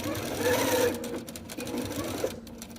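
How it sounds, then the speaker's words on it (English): A sewing machine stitches fabric loops for a summer camp project, running with a steady mechanical whir and rapid needle rhythm, then stopping and restarting in short bursts, fairly close and clear. "I am just gonna keep sewing until all the loops are sewed on"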